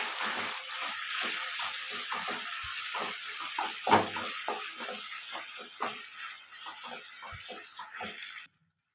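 Cooked rice frying and being stirred in melted ghee in a pan, a steady soft sizzle with repeated light scraping strokes throughout, close and fairly quiet, ending abruptly.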